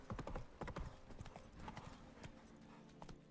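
Roach, Geralt's horse in The Witcher 3: Blood and Wine, clip-clopping along in a fairly quiet run of uneven hoof strikes, with a faint whinny mixed in and no speech.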